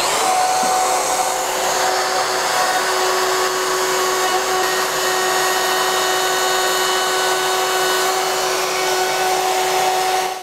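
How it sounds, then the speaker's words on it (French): A trim router hums at a high, steady whine as it cuts wood, hooked up to a Mirka 1025L dust extractor, the motor running continuously at close range. "je vais sortir mon affleureuse et on va faire voler les copeaux"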